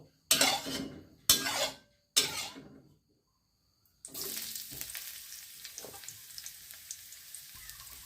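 Three sharp bursts of sizzling and clattering come first, then a pause, then a steady close frying hiss with light scraping as Mama instant noodles are stir-fried with mixed vegetables.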